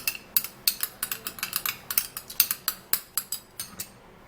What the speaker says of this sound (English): giving it a stir.